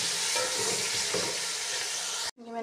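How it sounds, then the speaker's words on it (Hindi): Green chillies, capsicum and potatoes fry and sizzle in ghee-coated spice masala in a pan, a dense, loud crackle that cuts off abruptly near the end, leaving a faint tonal hum. "हम इसमें शामिल करेंगे हरी मिर्च और शिमला मिर्च और आलू।"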